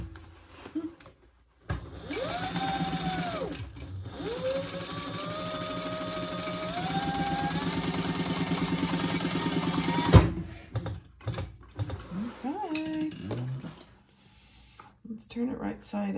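An electric sewing machine stitching fabric for a car trash can, a steady close whirring buzz of needle strokes that runs for about eight seconds and then stops abruptly, followed by faint handling clicks.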